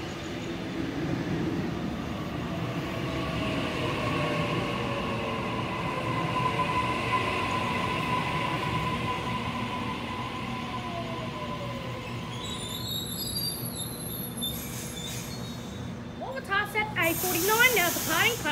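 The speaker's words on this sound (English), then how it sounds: "The train on platform 2 goes to MacArthur." A train at a station platform on the line to MacArthur, heard as a steady hiss and low rumble throughout with brakes squealing faintly, and a louder mechanical burst near the end.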